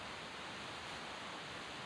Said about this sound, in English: In the distance, you can already hear the rumble of the water crashing down the mountain.